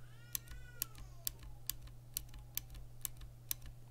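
Gold click-bar clicky keyboard switch pressed eight times at an even pace, each press a sharp, bright click, close and alone over a steady low hum.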